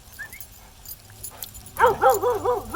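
A beagle in a busy household dog-training session gives a short burst of loud, wavering, howl-like barks near the end, after quieter background noise.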